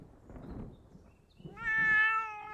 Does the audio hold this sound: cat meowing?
yes